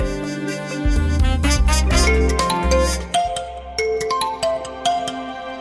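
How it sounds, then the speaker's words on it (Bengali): A phone ringtone plays loudly for an incoming call, a bright melodic chime pattern of repeating tones that runs through the whole stretch with no voices over it. "এই তো দেখি তোমার স্বামী ফোন করছে।"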